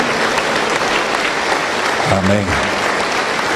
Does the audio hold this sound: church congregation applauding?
yes